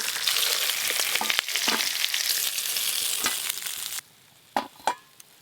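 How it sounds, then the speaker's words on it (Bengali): Hilsa fish head frying in hot oil, a steady loud sizzle that cuts out abruptly, followed by a few sharp spatters and pops in near silence. "এদিকে আমার ইলিশ মাছের মাথা ভাজা হয়ে গেছে, তুলে নেব।"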